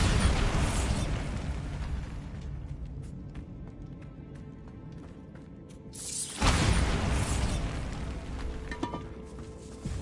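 A Bombarda spell explosion in the Hogwarts Legacy video game, a rumbling blast that fades and then a second loud burst about six seconds in, over dense background sound.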